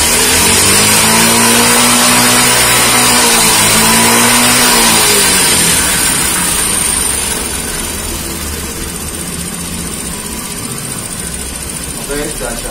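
A restored Japanese Suzuki Choi Nori 50cc two-stroke mini motorbike engine running close by, loud and buzzing with a rev that then settles into a steady idle, with a voice talking over it.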